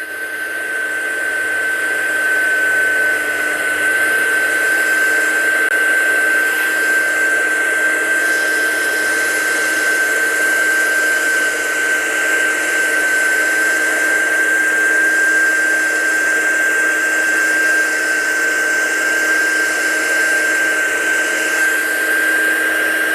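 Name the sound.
embossing heat gun running to heat set stamped ink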